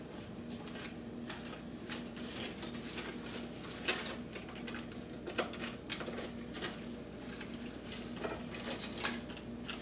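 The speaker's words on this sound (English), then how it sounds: "I'm going to just scoop them on my plate" Roasted Brussels sprouts being scooped onto a plate make a steady patter of light clicks and scrapes of utensil against dish, with a few sharper taps standing out, close and moderately quiet.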